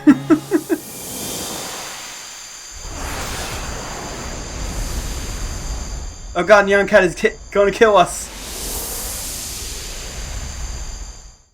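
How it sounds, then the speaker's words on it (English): A tractor beam in the Rogue Galaxy video game swells into a steady, roaring, airy drone that carries to the end, with someone talking excitedly over it. "Is that some kind of tractor beam?"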